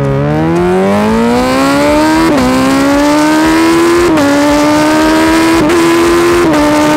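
A Suzuki B-King motorcycle with a faulty gearbox pulls hard in first gear, its engine note climbing loudly and steadily, broken by several brief dips at what sound like shifts or hiccups, close and alone without talk.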